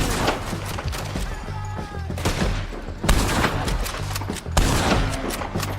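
Repeated gunfire in the open-world western game Red Dead Redemption 2, loud bursts of shots recurring every second or two over a low game soundscape, with no talk.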